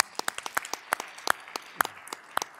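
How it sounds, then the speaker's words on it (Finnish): Scattered applause from an audience at a Finnish social and health sector event in a hall, with sparse individual claps in an uneven rhythm, moderately near and fairly light. "Ehkä aplodien paikka se on."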